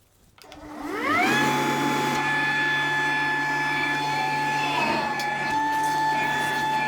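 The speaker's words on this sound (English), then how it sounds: "Now I can just detach my dust extractor from the back, use this to clean up inside without any extra tools." A dust extractor spins up within a second and settles into a loud, steady whine with a droning hum while it vacuums the inside of a wooden cart built from scrap wood.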